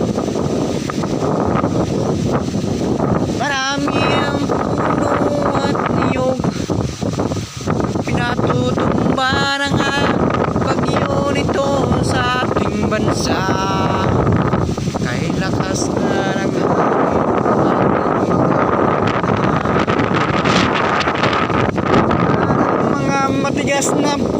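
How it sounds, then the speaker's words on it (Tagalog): Strong wind roars steadily and loudly against the microphone, with a voice speaking throughout underneath the gusting rumble. "sa ating lugar ay lakas ng hangin"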